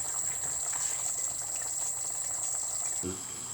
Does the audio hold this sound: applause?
no